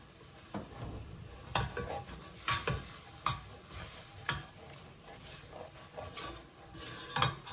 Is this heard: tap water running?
no